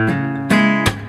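Acoustic guitar lick with the thumb striking the open A and then hammering on into the next note instead of picking it, three close percussive attacks with ringing strings, played alone.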